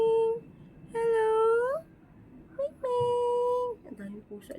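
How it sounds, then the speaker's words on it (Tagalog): Several cats meow close by in a series of drawn-out, rising calls with short gaps between them, over a low background murmur. "Ang daming pusa dito."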